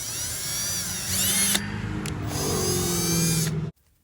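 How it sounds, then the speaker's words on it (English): A power drill whirs steadily for about three and a half seconds while drilling a pilot hole for a camera bracket, its pitch briefly rising as it bites in, then stops abruptly. "we're going to go ahead and drill 1 pilot hole first with the appropriate drill bit"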